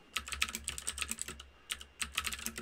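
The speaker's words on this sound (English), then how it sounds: "I got a really loud clicky keyboard, so hopefully you're all enjoying the sound of that" Rapid bursts of typing on a loud, clicky computer keyboard, with sharp close keystrokes coming in uneven runs and short pauses, and no other sound competing.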